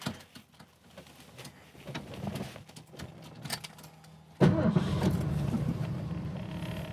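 A 1973 Ford Mustang Mach 1 with its original stock exhaust cranks and fires abruptly after a few seconds of faint background noise, then settles into a steady, fairly quiet low rumble close by.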